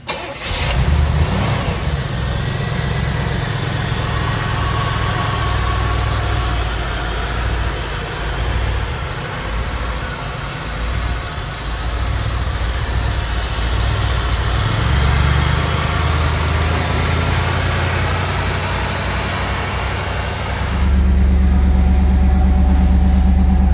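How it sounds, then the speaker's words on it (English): A 1989 Chevrolet Camaro IROC Z28 engine cranks, catches and settles into a steady idle close by, then revs up louder near the end, with no talk over it. "We're going to fire it up right now."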